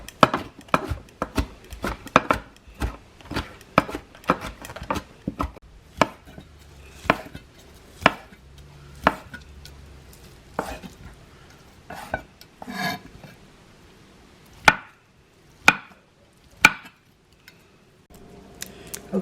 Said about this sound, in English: They're a little too big, so you wanna chop them a little bit, okay?